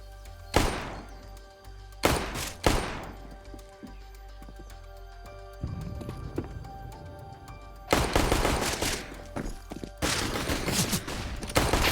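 Gunfire rings out during a Counter-Strike match on the Inferno map at a DreamHack Masters game between FURIA and 100 Thieves: sharp single shots, then dense automatic bursts, loud and close, with little talk.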